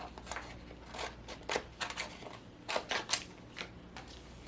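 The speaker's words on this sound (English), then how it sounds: "So I will take my scissors first and trim off the excess or extra vinyl." Scissors trim excess heat transfer vinyl for a craft shirt, a series of quiet, crisp snips and rustles spaced irregularly, close by, with no talk.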